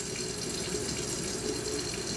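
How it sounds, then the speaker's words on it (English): Steady rush of a running kitchen tap as strawberries are rinsed for a cheesecake, a close, continuous splashing stream with no talking. "Pardon while I rinse these."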